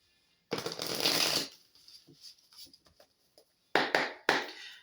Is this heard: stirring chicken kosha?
no